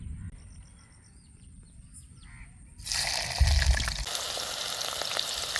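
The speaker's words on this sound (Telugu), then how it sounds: "ముందుగా తరిగి పెట్టుకున్న ఎర్రగడ్డ ముక్కలు వేస్తున్నా" Chopped red onions dropped into hot oil with cumin and fenugreek seeds in a pan, a quiet stretch giving way to a sudden loud, steady sizzle and crackle that continues to the end.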